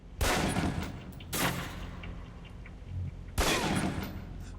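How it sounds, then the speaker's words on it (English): Pistol shots fired at a target on a range in the video game Alpha Protocol: three loud, sharp reports spaced about a second apart, each with a short ringing tail over a steady background. "Equip the pistol, then aim down range and take some shots at the target."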